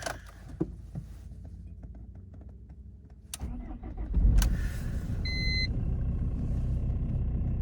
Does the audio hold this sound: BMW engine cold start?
yes